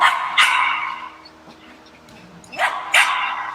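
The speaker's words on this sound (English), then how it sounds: "And usually when they're barking like that," A dog barks in short, sharp bursts, two at the start and two more after a pause, fairly close and loud during a training session, with faint background sounds between.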